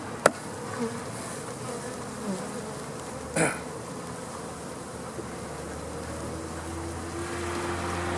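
Honey bees buzzing steadily around frames as they are cleared during a first-year honey extraction, a continuous outdoor drone with a few sharp knocks near the start and midway.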